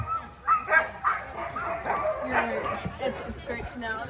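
Sled dogs in Alaska bark and yip in a busy chorus at close range, with whimpers mixed in, while people talk over the commotion.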